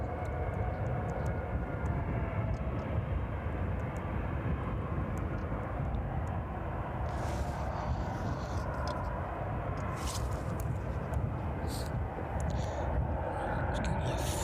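An aircraft departing East Midlands Airport in the evening gives off a steady, moderately distant engine rumble and whine that holds throughout, with a voice talking over it and a few brief clicks.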